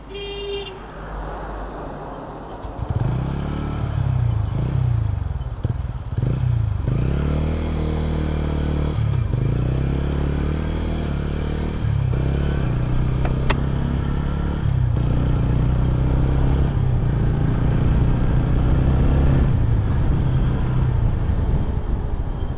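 A 2025 TVS Ronin 225 motorcycle with a 225 cc engine is started and then idles steadily and close by, with a low, even rumble that carries on for about twenty seconds.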